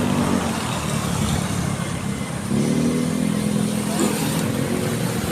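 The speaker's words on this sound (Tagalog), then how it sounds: "Maraming sasakyan, maraming motor, maraming tricycle." Busy street traffic of cars, motorcycles and motorized tricycles passes close to a roadside walkway in the morning, a steady engine rumble with a louder vehicle going by midway and faint talking underneath.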